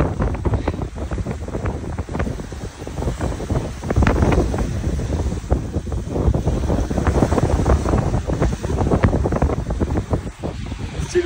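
Strong wind buffets a sailing catamaran crossing the Atlantic in bad weather with 3-4 meter waves, a loud continuous roar of gusts and water rushing past the hull, with no voices.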